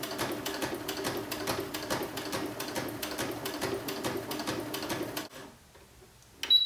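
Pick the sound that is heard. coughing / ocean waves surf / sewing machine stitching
sewing machine stitching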